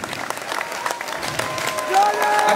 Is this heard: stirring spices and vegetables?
no